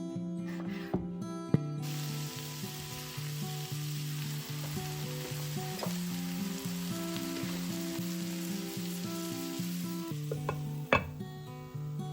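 Dried anchovies cooking with cut tomato in a covered pan, a long steady sizzle and bubbling with occasional sharp taps and a clatter near the start, close and even throughout.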